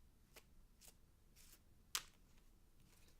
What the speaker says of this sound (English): Shuffling playing cards for comfort.